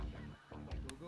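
Many snow geese honking at once during a hunt, a noisy overlapping clamor of calls, close and loud.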